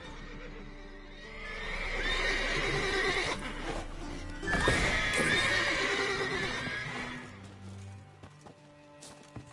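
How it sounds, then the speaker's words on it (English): Horses in the video game Witcher 3 whinny loudly, one long neigh rising clearly in the middle, with hooves clip-clopping underneath. "Gotta call all the horses before they wake the guards."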